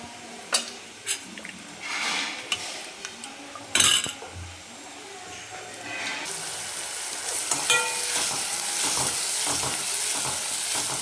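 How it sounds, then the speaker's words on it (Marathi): Chopped garlic and turmeric fry in a pan with a soft steady sizzle, broken by scattered scrapes and clinks of a spoon stirring against the metal. The sizzle swells louder after the first few seconds, all heard close with no talking. "याच्यानंतर जे आपण लसूण कट करून घेतला होता तो टाकून घेऊ याच्यामध्ये आपण थोडीशी हळद टाकणार आहे"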